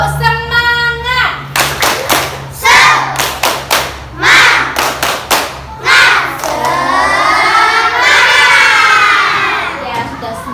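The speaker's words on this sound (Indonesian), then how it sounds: "Sekali lagi ya. Tepuk semangat." Young schoolchildren repeat the tepuk semangat chant in class, loud patterned clapping in quick groups interleaved with energetic shouted syllables, ending in a sustained group cheer, close in a classroom.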